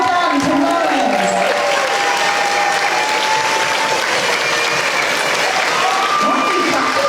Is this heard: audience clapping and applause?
yes